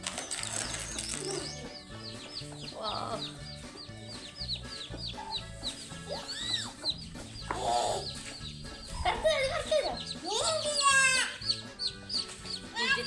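A country hen (desi breed) clucks amid a busy chorus of high, peeping chicks, with scattered chirps and a brief flutter, fairly close.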